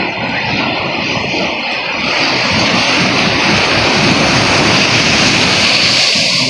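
A loud boat motor drones steadily up close, a broad rough roar that holds without pause.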